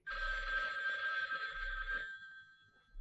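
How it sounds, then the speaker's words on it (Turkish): A telephone bell in an old Turkish film rings in two bursts, a long trill then a shorter one, fairly quiet and alone, followed by a brief pause. "telefon çalıyor."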